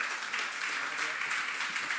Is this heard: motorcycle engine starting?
no